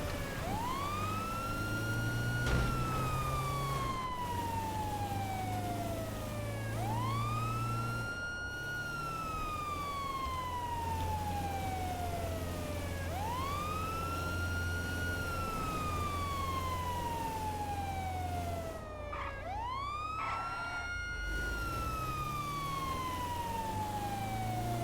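Police car siren in a roleplay video game, a continuous wailing tone rising and falling in slow repeating sweeps, loud and close, with a low vehicle rumble underneath.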